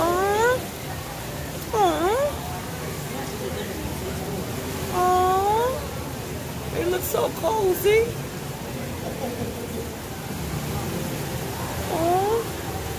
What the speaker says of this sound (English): Ooh, what we have here? Asian small claws.